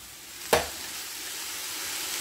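Tomato is added to a pot of frying jollof rice base, giving a sharp splash and hiss, then a steady, close sizzle that continues on its own.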